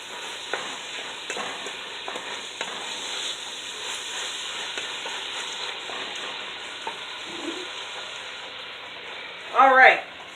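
Ground beef for empanada filling sizzles and fries in a pan, a steady hiss under faint talk with a few stirring clatters and a louder scrape of the spoon near the end.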